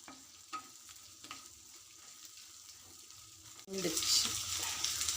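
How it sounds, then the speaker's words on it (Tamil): Onions, curry leaves and okra sautéed in a pan for sambar. Faint scraping stirs come first, then a loud, broad sizzle swells up near the end, close by and with no talking. "ப்ரௌன் கலர் ஆகிறது வரைக்கும் நல்லா வதக்குங்க."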